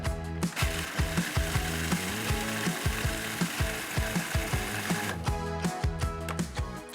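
A blender blitzing fresh sage leaves with breadcrumbs into a coarse crumb, giving a steady motorised whir with rhythmic rattling knocks throughout, briefly shifting pitch midway and continuing without any voices.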